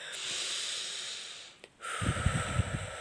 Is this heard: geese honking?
no